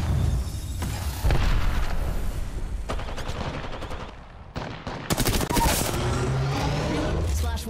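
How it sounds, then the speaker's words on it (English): Grenade blast and bursts of gunfire during an Apex Legends battle royale fight: repeated sharp rapid-fire volleys with a heavy boom near the midpoint, dense and loud throughout, with occasional voice chatter underneath. "Look out, grenade!"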